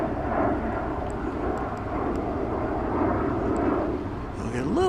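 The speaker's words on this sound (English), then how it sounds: "we're just about to see the liftoff, I think, of UPS Flight 761 to Ontario, California. That's being Airbus A300." A UPS Airbus A300 jet throttling up for night takeoff at Dallas Fort Worth airport, a loud, steady broadband engine roar that holds throughout, with a faint rising whine near the end.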